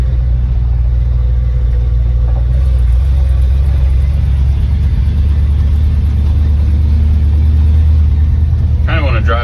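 A 1989 Dodge service truck's engine runs with a loud, steady, low rumble up close, holding constant throughout, with a brief higher rattle near the end.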